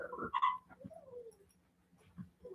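A service dog whimpers indoors in a few soft, brief whines, the strongest near the start and another short one toward the end, quiet and fairly close.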